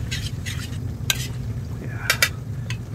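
An ice candy mixture with cornstarch is stirred in a pot, brisk scraping and clinking strokes in short bursts over a low steady background; no talking.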